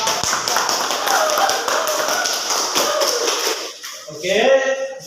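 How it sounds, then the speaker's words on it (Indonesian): Students in a junior high school classroom clap after group presentations, a steady dense patter of hands that thins out near the end, where a voice begins speaking. "Berikan tepuk tangan."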